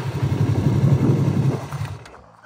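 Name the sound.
motorcycle engine accelerating through gears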